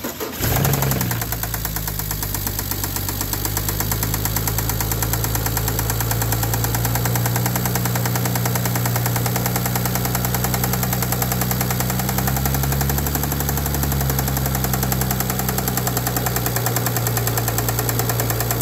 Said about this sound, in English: test and find out where this ticking noise was coming from